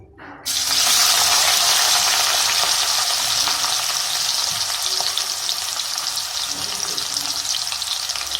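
Chopped onions hit hot oil in a kadai with a sudden loud sizzle that keeps up as a dense, steady hiss, close by and with no talking over it.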